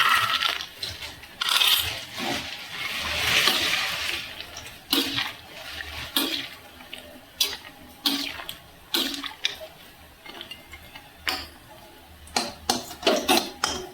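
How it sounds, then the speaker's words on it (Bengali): Fried lentil dumplings (bori) tumble into a pan of sukto sweetened with sugar, making a quick run of sharp clacks and small plops over a soft wet simmer, close and fairly loud. "তার উপর থেকে আমরা দিয়ে দিচ্ছি আমাদের ভেজে রাখা বড়িগুলো"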